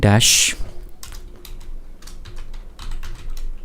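Rapid, uneven clicks from a computer keyboard as code is typed, steady and close, with a louder burst of noise at the very start.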